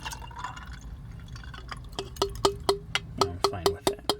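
Small plastic Transformers G1 toy pieces dumped into a container of oxygen bleach liquid, giving a run of sharp clinking drops and splashes that grows denser toward the end, close and fairly loud.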